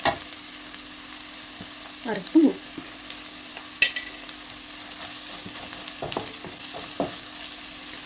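A quiet, steady sizzle of masala frying on low heat in a pan for beef pepper masala, with a few scrapes of stirring and a short remark in Tamil partway through.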